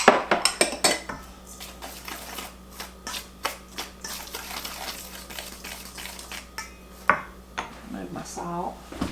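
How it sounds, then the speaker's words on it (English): Flour, baking powder, salt and sugar whisked in a bowl for waffle batter make rapid metallic clinks and taps against the bowl, close and uneven, with a person speaking over them. "then I'm going to add my sugar in there, and then just whisk that up"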